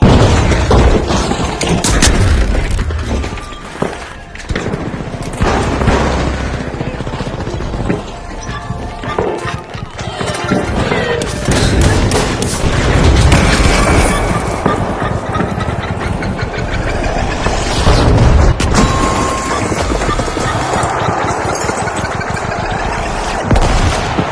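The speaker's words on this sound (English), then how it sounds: "Incoming frag grenade!" Frag grenade blasts and sustained gunfire in the shooter game The Finals, loud and dense, with repeated booms and rattling fire layered over a constant engine-like roar throughout.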